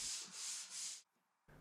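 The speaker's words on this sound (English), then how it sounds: "I did a bit of hand sanding and it looked good." Hand sanding on reclaimed wood taken from bins, three loud rhythmic rasping strokes in a row, then a pause and the start of a fourth stroke, close and alone.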